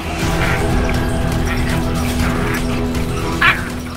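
Wild dogs set upon hyenas, giving repeated barks, yips and whimpering cries over a dense, continuous rush of noise, with one sharper yelp near the end.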